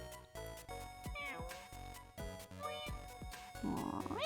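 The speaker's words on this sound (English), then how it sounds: "let me give you a meow" A cat meows in Mega Man Battle Network 4 Red Sun, a short synthesized cry rising out of steady chiptune background music.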